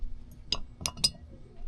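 Metal jig heads clinking against a glass measuring cup as they are hung on its rim: four sharp, bright taps spaced irregularly, close and fairly quiet over a low room hum.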